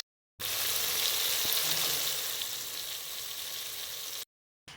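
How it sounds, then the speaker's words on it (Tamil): Onions and tomatoes sizzle steadily in hot oil in a pan while a crab curry is cooked, a dense continuous frying hiss that starts and stops abruptly, with no talking. "தக்காளி லைட்டாக வதங்கட்டும்"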